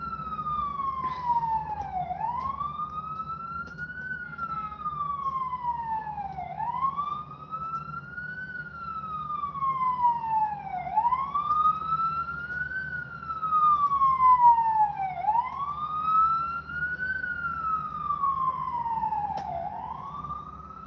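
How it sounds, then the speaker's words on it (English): An ambulance siren wails in slow rising and falling sweeps, repeating about every four seconds over more than twenty seconds, fairly close and steady above low traffic rumble. "how slow is that ambulance going? That ambulance is going slow."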